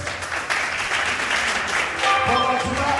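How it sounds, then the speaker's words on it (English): Audience applause at a Mende naming ceremony, a steady wash of clapping lasting throughout, with voices and some shouting rising near the end. "Ladies and gentlemen, another big round of applause"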